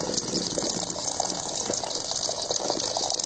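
Water pours and gushes steadily while kneaded flour dough is washed, a continuous close splashing rush with no talk over it.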